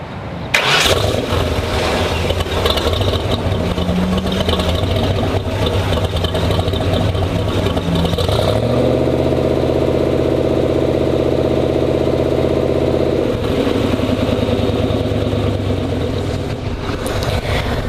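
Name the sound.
1934 Ford custom car engine starting and idling, exhaust rumble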